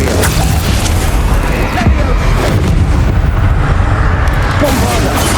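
An Imperio curse cast in Hogwarts Legacy brings a loud, continuous magical rumble with booming thuds, layered under a voice talking.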